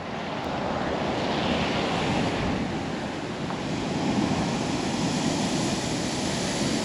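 Steady, roaring high surf on the Oregon coast during a king tide, with constant wash and rumble, wind and rain noise on the microphone throughout, no clear separate crashes.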